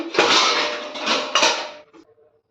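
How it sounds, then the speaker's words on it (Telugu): Washed dishes and pots being put away, a close burst of metallic clattering and clanking that comes in two quick bunches and then fades to faint rattles. "మార్నింగ్ తోమిన గిన్నెలు అయితే ఉన్నాయి, ఇవన్నీ అయితే సదురుకుంటున్నాను"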